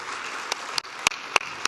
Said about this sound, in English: So please give a very big round of applause to our panel as they join us on stage.